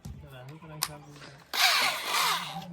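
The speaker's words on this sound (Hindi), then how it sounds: "इसको लगाने के लिए ड्रिल मशीन का ही यूज लेंगे" Someone speaks in Hindi, and then a power drill whirs in a loud, close burst as it drives a rusty screw into a bent rooftop TV antenna.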